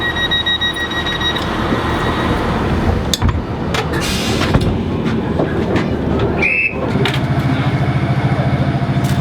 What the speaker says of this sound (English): We're on the Addiewell train